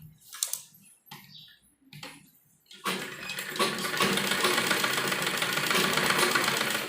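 A sewing machine stitches a kurti lining: a few short separate bursts give way to a long, steady run of rapid mechanical clatter, close and fairly loud, with no voices.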